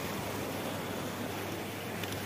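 Water flows steadily at a dam in hilly country, a continuous broad rushing roar without pause, fairly distant and even in loudness.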